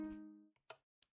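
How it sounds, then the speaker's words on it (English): Minecraft note block doorbell chime in a video game, one ringing tonal note that fades out, followed by a few faint short clicks, quiet and alone. "so that's the sound of the doorbell that we made."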